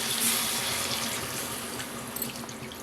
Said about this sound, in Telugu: ఇప్పుడు వాటర్ వేసేద్దాం.